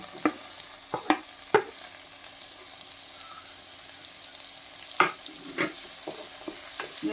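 Onions fry in a pan with a low, continuous sizzle, broken by several sharp spatula knocks and scrapes against the pan, close and fairly quiet.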